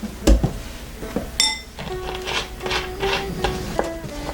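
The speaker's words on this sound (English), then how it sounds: "mix this up well together and cream the butter and make your dough" Shortbread dough of flour, vanilla and butter being mixed in a bowl, with scraping, rubbing and clinking of a utensil against the bowl in irregular strokes, close by.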